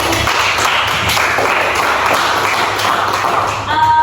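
A class applauds after two group presentations: steady clapping from many hands fills the room continuously, fairly loud and close, with no talking over it.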